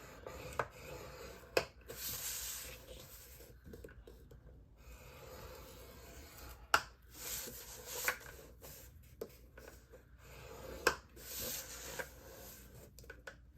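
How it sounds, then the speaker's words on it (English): A scoring tool is drawn across basic gray cardstock, 8.5 by 4.75 inches, to score one inch in from each side. Soft, faint scraping strokes come and go at an uneven pace, with no talking. "I am going to score at 1 inch"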